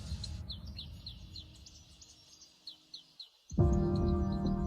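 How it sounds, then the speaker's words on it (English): Birdcalls in the Amazon rainforest, attributed to toucans: a string of short, rhythmic chirps over a low steady hum, followed by a louder, richer call that swells in near the end. "these social birds rely on loud, echoing calls to communicate"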